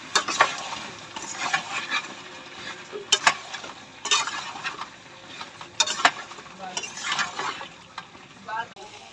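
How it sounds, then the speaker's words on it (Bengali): Chicken and yogurt stirred in a pot, a spoon scraping and clinking against the metal in irregular bursts over a faint sizzle, with no one speaking. "দইটা দিয়ে মাংসটা নাড়ছি।"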